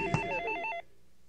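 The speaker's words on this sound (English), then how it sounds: "I'm awakened by the incessant ringing of a telephone." A telephone bell rings in a rapid trilling burst, loud and close, then cuts off abruptly into quiet room tone.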